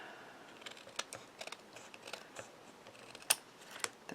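Scissors trimming paper for a handmade card, a string of crisp close snips and light paper rustles, quiet and without speech.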